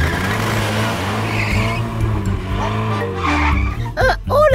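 Cartoon car driving and skidding, a continuous engine drone with shifting pitch that ends in squealing tire skids, loud and close throughout.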